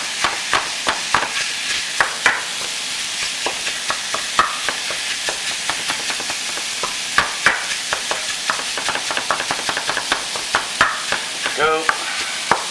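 Spaghetti ingredients frying in a pan, with a steady sizzle under repeated scraping and clacking strokes of a utensil stirring them, loud and close throughout.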